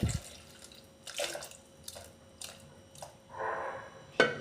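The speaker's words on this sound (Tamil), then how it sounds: "கிழங்கு முழுகிற அளவுக்கு தண்ணி சேர்த்துக்கிடணும்" Water is added to sweet potatoes in a pressure cooker, heard as a few brief, close splashes and trickles separated by quiet gaps.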